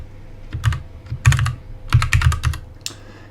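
Rapid clicks of a computer keyboard typed in short bursts at close range, with brief pauses between clusters of keystrokes and no talking.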